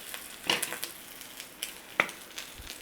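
Beef searing in a hot pan, with a steady low sizzle broken by a few sharp crackles and pops, close and with no voices.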